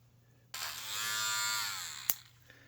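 A small electric hobby sander whirs into a high, steady buzz up close, runs for about a second and a half, then shuts off with a sharp click.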